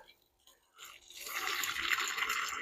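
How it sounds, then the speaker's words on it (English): Water pours into a bucket set over a clump of grass outdoors, starting after a quiet moment and building into a steady, hissing, moderately close rush. "just fill this bucket up a good bit with water over the top of the clump of grass"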